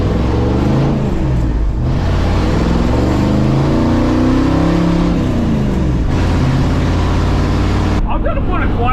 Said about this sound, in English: I will miss these straight pipes. This thing sounds good.